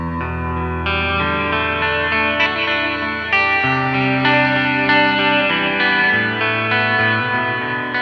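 Clean electric guitar tone from a Line 6 Helix preset, the DeepSeek version of a patch, with delay and reverb: sustained ringing chords and arpeggiated notes, steady and loud throughout, with no talking.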